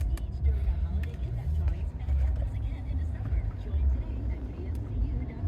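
A 2013 Porsche Panamera Platinum Edition with 86,967 miles settles into idle, a steady deep low rumble held throughout, with talking over it.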